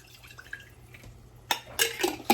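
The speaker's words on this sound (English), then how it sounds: "you're just going to add a little bit of water" Water poured into an emptied pasta sauce jar to rinse it, starting as quiet faint trickles before a few louder splashing pours and a glassy clink near the end, with no speech.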